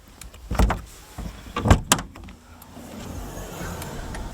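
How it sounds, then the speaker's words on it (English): Boot lid of a Fiat Panda 4x4 being shut and locked, with two close, solid thuds followed by a short mechanical click, then quiet ambient noise. "So Tina can now lock the boot lid."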